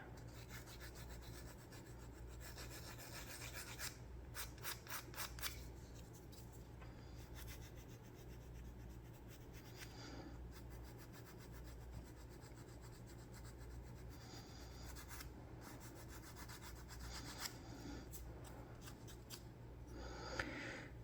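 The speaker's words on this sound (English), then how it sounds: "Then we come in with our sanding stick." A sanding stick rubs back and forth on the wooden hull of a Model Shipways Norwegian Sailing Pram model boat, close and quiet, in bursts of quick rasping strokes with short pauses and no talk.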